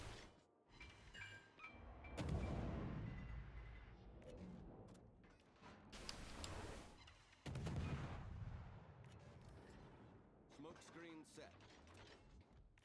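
Heavy naval gun salvos in a warship combat game, several loud booming blasts separated by mechanical clatter and whirring of turret machinery, with game sounds in between and no clear speech.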